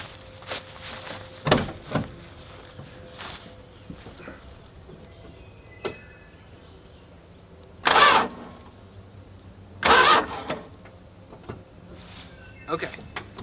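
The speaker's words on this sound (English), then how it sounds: "I'm going to get in the car and just spin over the key just to make sure that it actually does anything." A car's starter cranks the engine with the key in two short bursts a couple of seconds apart, loud against a quiet background.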